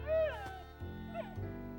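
A cartoon dog, upset by the noise of a toy horn, gives a few high, wavering whimpers and whines, close and fairly quiet, with short pauses between them.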